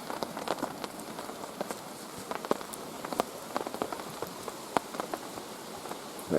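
Steady pouring rain at a wild campsite, a dense hiss of drops with sharper patters landing on a nearby surface, continuous and fairly close with no voices.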